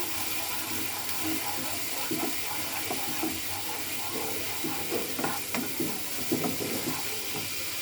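Tomato being sautéed in a pan for mushroom masala with salt already added: a constant, close hiss of frying with scattered bubbling pops and spatula scrapes, no voices.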